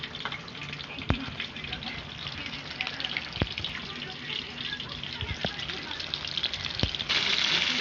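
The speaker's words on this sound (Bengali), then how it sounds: "আমি ফিশ ফ্রাইগুলো ভেজে নেবো" Amudi fish frying in oil in a wok, a steady hissing sizzle with a few sharp pops and crackles, close and continuous, with a voice speaking.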